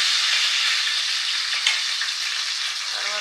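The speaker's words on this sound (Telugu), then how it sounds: "కలుపుకున్నటువంటి పచ్చిమిర్చి వేసి కొద్దిగా ఫ్రై అయ్యే వరకు ఉంచుదాము" Green chillies frying in a pan for a Telangana bottle gourd curry, a bright, hissing sizzle held close and steady, with a small clink of utensil near the end.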